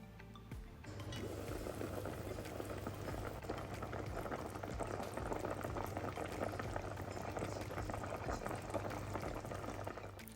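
Cow foot simmering in water in a covered pot for Jamaican curry cow foot, a steady low bubbling and hissing boil that runs continuously and quietly without any voices.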